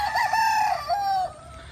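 Gamefowl rooster crows once nearby, a loud drawn-out call lasting over a second that fades into quiet background.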